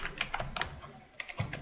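Light, quick keystrokes on a computer keyboard as a command is entered, a few scattered clicks in short bursts, close and quiet with no talking.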